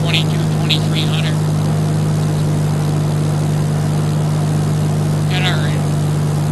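Steady droning aircraft engine in the X-Plane 11 flight simulator, throttled back to a lower, constant hum that continues throughout, with occasional faint chirps and talk over it.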